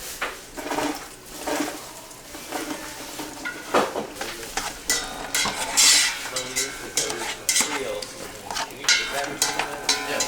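Onions and ginger browning in plenty of oil give a close, uneven crackle. Bursts of scraping and clattering from stirring rise and fall throughout, with no voices.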